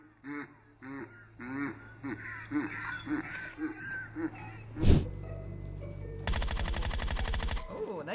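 Gunfire in the video game PUBG Mobile: a single sharp shot followed by a sustained rapid burst of automatic fire near the end, after a stretch of excited voices talking.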